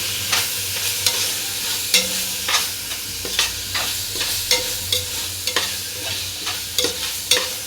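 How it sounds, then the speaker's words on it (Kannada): A chicken biryani mixture with turmeric is stirred in a frying pan, with repeated scraping stir strokes over a steady sizzle, close and fairly loud. "ಇವಾಗ ಇದನ್ನು ಚೆನ್ನಾಗಿ ಮಿಕ್ಸ್ ಮಾಡ್ಕೊಳ್ಳಿ."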